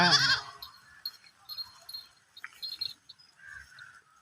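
Goats bleat at a goat market, one loud cry close by at the start, then fainter scattered bleats and calls further off.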